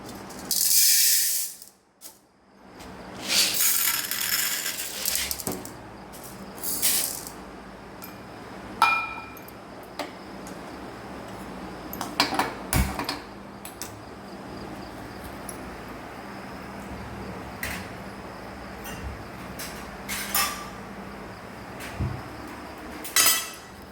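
Green gram lentils dry-roasting in a pan, with a steady sizzling hiss and scattered clinks and scrapes of a utensil against metal, close and fairly quiet, no talking.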